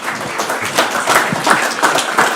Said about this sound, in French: Mais s'il vous plaît, applaudissez quand même.